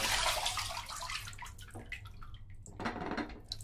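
Water drips and splashes as a plastic Hyper Tough storage utility box is lifted straight out of a water-filled container, a close, steady wash of running and trickling water with brief louder sloshes, no voices.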